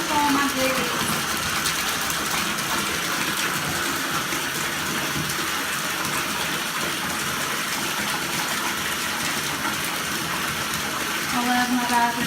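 A bathtub fills with blue-tinted water in a home bathroom, a loud, constant gushing rush that runs unbroken throughout.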